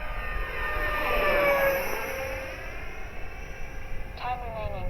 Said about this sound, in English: This is a lot smaller jet though too, but 64mm EDF.